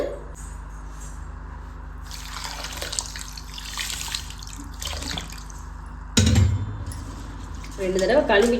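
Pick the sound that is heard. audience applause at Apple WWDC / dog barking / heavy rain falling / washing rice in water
washing rice in water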